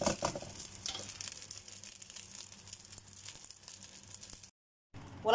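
Small diced potatoes frying in a pan for a corned beef breakfast, a steady close sizzle with stirring and crinkly scraping for several seconds, then a brief gap of silence before the clatter and sizzle resume.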